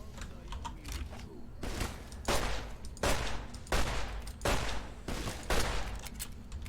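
Bursts of gunfire in the game Fallout New Vegas, a series of sharp, fairly quiet shots in rhythmic clusters about every second, with no talk over them.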